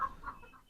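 A Polish cap hen gives a few short, close clucks in quick succession, lasting under a second.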